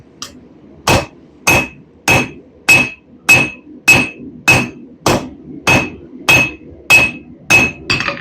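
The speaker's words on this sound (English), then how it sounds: "I do this right here and I just start hammering" A metal knife blade being hammered by hand: about thirteen evenly spaced, loud, ringing blows, each with a bright metallic ping, repeating steadily at roughly two strikes per second with no talking.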